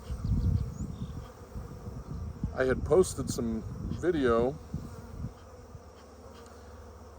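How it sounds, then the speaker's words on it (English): Bees buzz faintly and steadily in the background on a warm Memorial Day while someone talks over them in the middle of the clip. "The bees are very active today."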